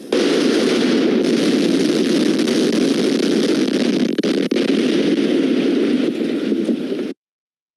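A block of flats in a pedestrian area near a shopping complex comes down by explosive demolition: a loud, sustained roaring blast and rumble with a few sharp cracks, ending abruptly in silence.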